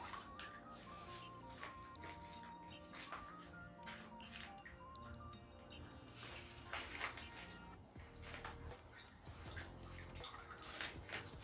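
Water drips from a 1-liter Katadyn BeFree collapsible filter used by gravity, as faint, irregular drops and a thin trickle, quiet and close.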